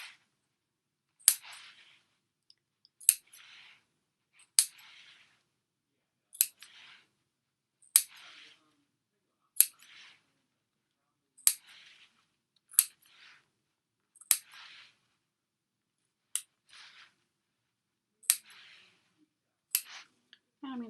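Scissors snip notches into the curved seam allowance of a fabric tote exterior, about a dozen sharp, crisp cuts spaced evenly every second or so, each a clear close click with a brief soft rustle of fabric after it.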